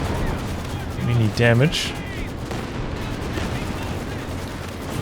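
Artillery barrage in a Company of Heroes 2 match, with a dull, rumbling run of distant shell fire and impacts under a caster's fast commentary, plus a brief whooshing sweep partway through.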